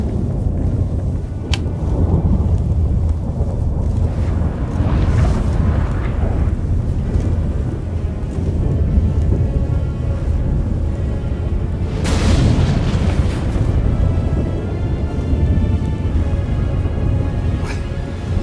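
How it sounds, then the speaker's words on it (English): A thunderstorm in the video game The Witcher 3: Wild Hunt, with a heavy, continuous rumble and deep rolling booms that swell and fade for the whole stretch, loud and with no talk over it. "That a storm?"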